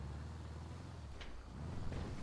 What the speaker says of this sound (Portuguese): Olha o barulho do motor.